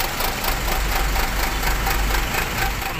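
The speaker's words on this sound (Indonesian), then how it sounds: "Dengerin lur suara knalpotnya" A Sumber Alam bus idles at the company's bus pool in Pondok Ungu, Bekasi, its exhaust giving a steady, loud, close rumble with a rough knocking pulse and no talk.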